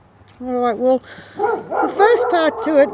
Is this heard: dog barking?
yes